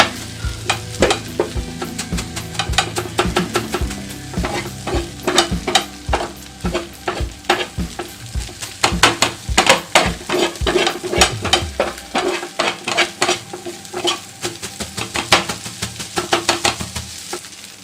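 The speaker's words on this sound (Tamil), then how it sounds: "இப்போ உங்கள் வீட்டில் இந்த மாதிரி ஏதாவது டம்ளர் இருந்ததுன்னா அதை யூஸ் பண்ணி இப்போ நம்ம குத்தி எடுக்கலாம்" Metal tumbler chopping egg kothu parotta on a flat roadside-style griddle, a steady run of sharp, loud clanging strikes in fast irregular bursts over a constant sizzle, with no talking.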